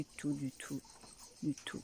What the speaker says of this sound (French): Je sais pas si vous entendez les cigales parce que comme il fait moins chaud, je vais me taire.